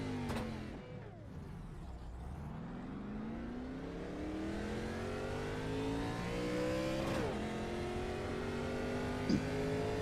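A V8 car in a racing video game revs hard, its engine note sweeping steadily upward through the gears after a short dip. The sound is loud and continuous, with a faint click near the end.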